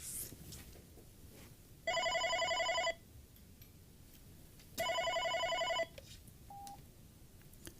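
An OpenStage 15 desk phone rings with an incoming call in two loud electronic bursts of about one second each, separated by a short gap, with a faint brief tone afterward and no talking.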